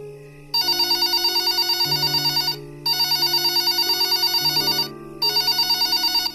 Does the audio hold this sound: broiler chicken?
no